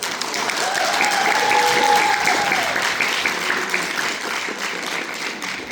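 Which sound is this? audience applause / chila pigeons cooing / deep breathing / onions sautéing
audience applause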